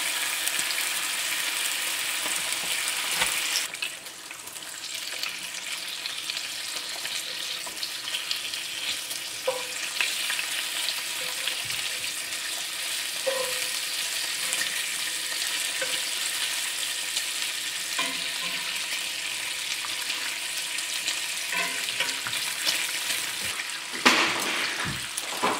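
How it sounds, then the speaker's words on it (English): Home-cured bacon fries in a pan with a steady, dense crackling sizzle that stays loud and continuous throughout, with occasional pops and no talking. "Oh, sizzling, sizzling bacon."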